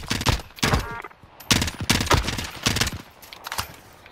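Video game gun firing in a string of sharp, evenly spaced bursts about every half second, loud and close, with no talking over it.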